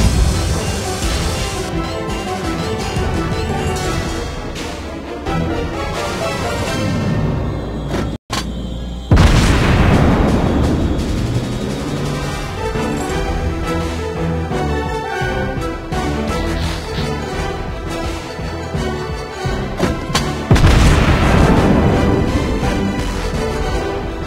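Naval gunfire and explosions in World of Warships Blitz, with a Shiratsuyu, Fuso, Myoko and Ernst Gaede in battle: loud, sustained booming salvos and blasts roll one after another over a constant battle din, with a brief drop-out midway.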